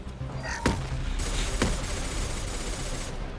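Distant fight raging outdoors in Mass Effect 2: a steady wash of gunfire and combat noise with two sharper bursts standing out, continuous and muffled as if beyond a wall.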